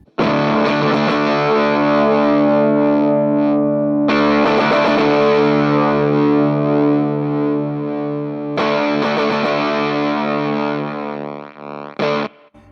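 Electric guitar through an UnderFluked FuZR fuzz pedal with the bias control rolled fully to one side, sustaining thick, buzzy fuzzed chords in three long strums, loud and alone, with a slightly gated, sputtering edge as notes fade.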